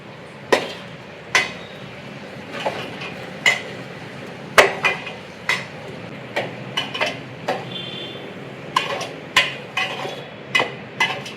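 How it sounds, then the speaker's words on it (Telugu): Metal spatula or spoon clanking against a pan while egg fried rice is stirred at home, a steady series of sharp clinks and scrapes about once a second over soft background hiss, with no talk. "దీంతో కలుపు, దాంతో కలుపు."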